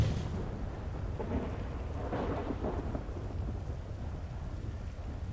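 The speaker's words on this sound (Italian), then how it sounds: "Ecco, piove anche, va? Piove anche." Video game rain hissing steadily with a deep, rolling rumble of thunder swelling and fading in the distance.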